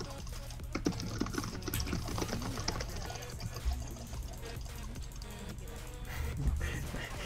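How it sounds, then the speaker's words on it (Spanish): Computer keyboard hammered hard during a League of Legends match, a dense stream of loud, rapid clacking keystrokes close up, continuous with brief bursts, no speech over it. "ha reventado el teclado, ¿eh? ¿Lo habéis escuchado?"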